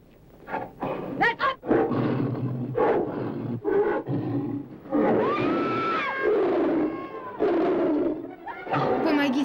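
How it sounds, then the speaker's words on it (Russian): Tiger roaring in a 1942 Jungle Book film, a series of deep, rough roars and growls rising and falling in uneven bursts, close and loud, with a few shouted voices mixed in. "Помогите, тигр."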